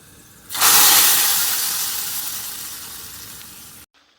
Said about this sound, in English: I'm adding 1 teaspoon of fenugreek seeds